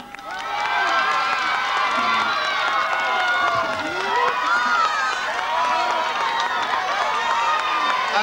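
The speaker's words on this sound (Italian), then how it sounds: "Accogliamolo con un forte applauso perché gioca in casa." A festival audience cheers and whoops for a singer, a steady crowd roar of shouts and whistles with some clapping, loud and sustained throughout.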